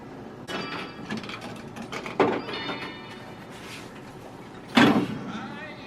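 Coins dropping into a Medieval Madness pinball machine, giving a few sharp metallic clunks and rattles against low mechanical background noise, fairly close and moderately loud.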